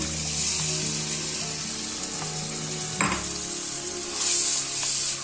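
Tomato puree frying with masala in a pan for an aloo bhindi salan, a steady loud sizzle running throughout with brief stirring scrapes and a splashy burst near the end.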